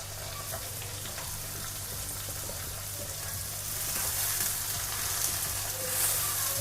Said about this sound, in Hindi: अब हम इसमें सबसे पहले आलू डाल रहे हैं। जो मैंने पहले काट रखे थे।